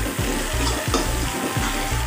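Onions frying in a pan for a home-style desi chicken curry, a steady dense sizzle with a low rhythmic scraping pulse repeating every half second or so, close and continuous without talk.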